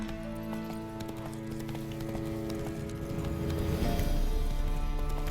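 Horse galloping in The Witcher 3 video game, a quick rhythmic clip-clop of hooves that grows louder and heavier toward the end, with tonal game music sustained underneath.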